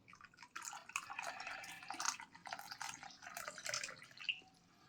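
Boiling water is poured into a bowl or cup holding dried hawthorn and a little liquor, giving close, trickling, dripping splashes that swell and ease over several seconds, with no voices.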